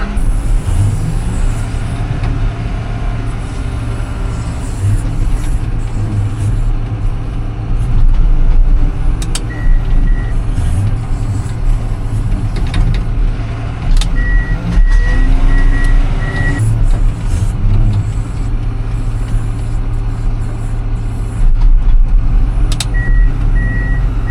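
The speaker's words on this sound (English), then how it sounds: "Single axle truck there." Single axle truck working on a farm during hay harvest, a loud steady diesel engine rumble with intermittent reversing beeps and occasional hissing brake sounds, no speech.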